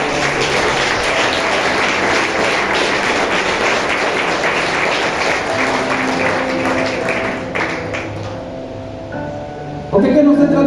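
A church congregation applauds together, a dense steady wash of clapping that fades over several seconds and trails off into scattered claps near the end.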